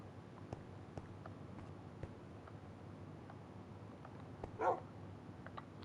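Video game dogs on a desert island in Reanimator barking once, a short mid-distance bark rising over a faint steady ambient background with scattered soft clicks.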